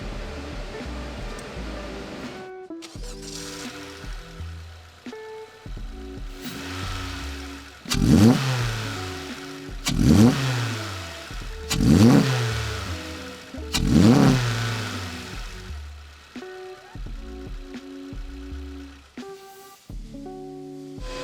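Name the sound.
10th Gen Honda Civic 2.0L engine revving with PRL intake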